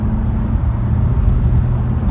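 Steady engine rumble of a Honda Accord 2.2 i-DTEC Type S diesel, loud and close, holding a low drone with slight shifts in pitch as the car pulls through first to fourth gear.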